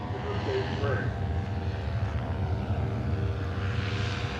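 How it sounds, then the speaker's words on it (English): A microlight aircraft engine drones steadily and loud throughout, a continuous propeller-engine hum with a faint voice briefly over it near the start. "The chicks are played the sound of the microlight's engine"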